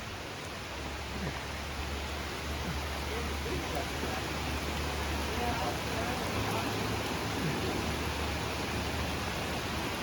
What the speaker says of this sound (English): Of course it would rain as soon as we get somewhere.